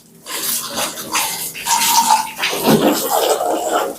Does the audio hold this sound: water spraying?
yes